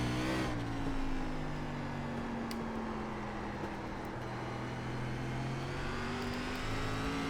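SRX race car engine in iRacing on the Concord track, a steady loud drone with a sustained harmonic whine that holds nearly constant throughout, without any talk.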